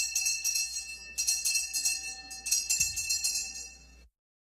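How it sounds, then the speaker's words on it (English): A bell clangs repeatedly in a legislative chamber before an announcement, bright metallic strikes ringing out in quick irregular bursts, loud and close, then cutting off into silence. "please welcome a clanging bell"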